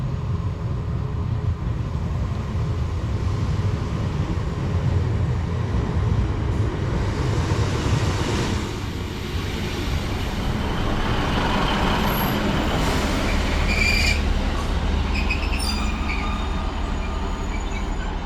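A Class 318 passenger train runs toward Whitchurch, a loud continuous rumble of wheels and motors, with high metallic squeals and whines rising in the second half and no voices.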